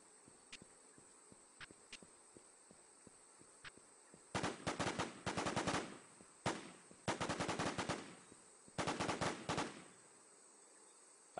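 Gunfire in a video game: a few faint single shots, then several loud rapid automatic bursts in quick succession, close up over a quiet steady hum.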